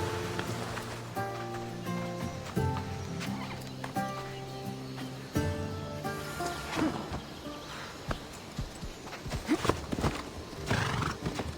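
Hooves clip-clop in a steady gallop as a horse is ridden in Assassin's Creed Odyssey, with a whinny, rain-like patter and music underneath.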